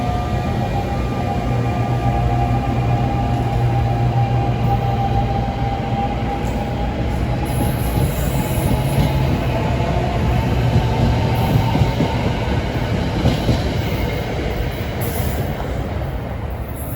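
An NJ Transit commuter train passes close by near Hoboken, a steady loud rumble of wheels and cars rolling on rails that lasts throughout. Faint clatter and a high metallic whine sit over the roar, with no voices.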